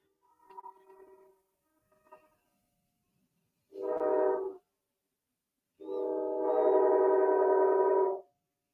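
A train horn sound effect blasts twice, first a short honk and then a longer sustained blast, loud and close, after a couple of faint quieter sounds.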